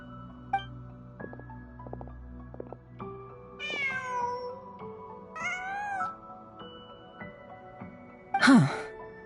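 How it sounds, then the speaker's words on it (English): A cat in Genshin Impact meows a few times, short mid-pitched calls followed by a louder drawn-out wailing meow near the end, over soft game background music. "Just a cat."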